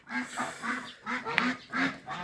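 Geese on a farm honk and cackle in a rhythmic series of close, repeated calls, several birds overlapping with short pauses between bursts.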